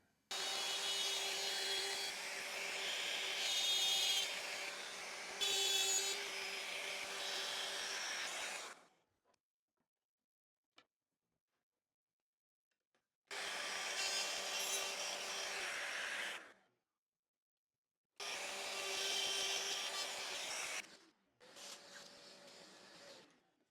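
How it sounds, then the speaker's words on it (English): Router cutting a truss rod channel into a wooden guitar neck in a workshop makes loud, steady whining cuts in three long runs, with near silence between them and a short rougher burst at the end. "So let's get the router on, cut out this, and put the truss rod in,"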